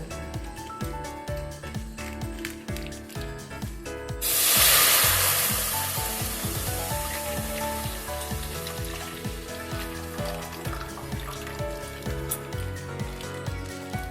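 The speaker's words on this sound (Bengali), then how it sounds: "এখন আমি দুধটা জাল দিয়ে নেব।" Milk hits a hot kadai on a gas stove for Bengali payesh with a sudden loud hissing sizzle, which settles into a softer, steady simmer under background music.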